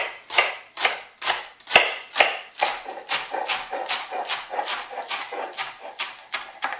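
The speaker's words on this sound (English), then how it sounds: "I'm going to take the whole thing and just kind of do a rough chop" A knife roughly chopping a whole head of romaine lettuce on a cutting board, a steady run of crisp, close thuds at an even rhythm, about two strikes per second, with no talk.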